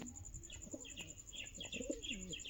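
Giribaz pigeons, an adult breeding pair, coo softly in repeated low phrases mixed with faint chirps, close by, over a steady high-pitched background whine.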